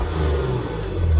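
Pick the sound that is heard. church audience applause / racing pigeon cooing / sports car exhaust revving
sports car exhaust revving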